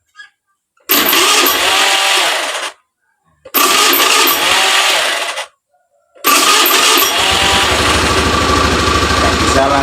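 A Honda Beat FI scooter with a hard-starting fault being started, three separate loud cranking and revving attempts broken by short silences, the last catching and settling into a running engine.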